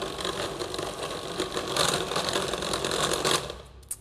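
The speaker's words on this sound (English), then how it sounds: "now you can hear the motor processor changing in sound" A food processor motor whirs and chugs in an uneven, labouring rhythm as shortcrust pastry dough forms a ball, before winding down near the end.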